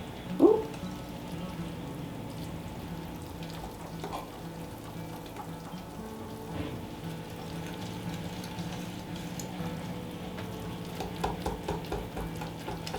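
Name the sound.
whisking thick sourdough pancake batter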